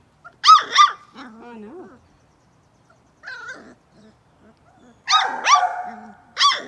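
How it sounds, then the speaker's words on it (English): A puppy yelps and whimpers in short high bursts, near and fairly loud, with quieter whining in between and brief talk. "She can hear him barking and she wants to get out here."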